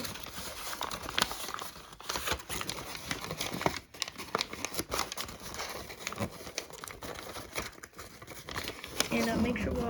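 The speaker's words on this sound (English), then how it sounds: "fold it all the way to the tip" Paper being creased and folded into an origami fighter jet, with soft crinkling and pressing sounds close up under steady talk throughout.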